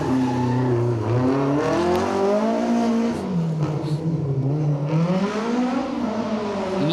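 A BMW rally car drives through an asphalt stage of the Manx Rally, its engine loud and close, revving and shifting continuously, with pitch rising and falling through gear changes.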